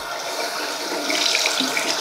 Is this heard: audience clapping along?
no